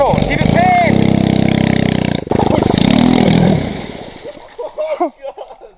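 Snorkeled pit bike engine revving hard at full throttle, a loud close buzzing roar that sputters and fades near the end, with people talking and shouting over it.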